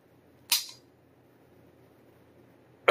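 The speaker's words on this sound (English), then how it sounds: "Dry fired a gun." A single sharp, close metallic snap of an unloaded handgun being dry fired, followed by near silence and another loud click at the very end.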